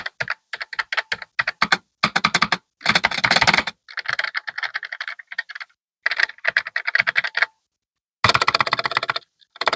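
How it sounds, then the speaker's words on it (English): Loud, close clicky Logitech MX Mechanical keyboard typing in rapid bursts separated by short pauses, with no talking. "It is clicky, so I'll give you a little bit of a click test so you can hear it."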